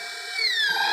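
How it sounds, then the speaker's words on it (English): Power drill whining steadily as it cuts a hole in a plastic rain barrel, a close, continuous high-pitched motor tone rising slightly as the bit bites in, with no voices. "What we're going to do is we're going to drill a hole at the top and a hole at the bottom."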